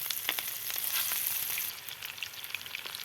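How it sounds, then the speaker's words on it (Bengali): Fish frying in hot mustard oil gives a dense, steady sizzle, close and fairly loud, with a faint crackle running through it and no voices. "এই যে তেলগুলো গরম হয়ে গেছে, এখন আমি মাছগুলো দিয়ে দিব আস্তে আস্তে।"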